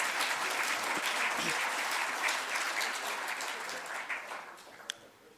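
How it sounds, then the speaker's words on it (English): An audience at a Namibian budget dialogue breakfast gives a sustained round of applause, dense and loud at first, then thinning and tapering toward the end with a few last claps. "Another round of applause, please."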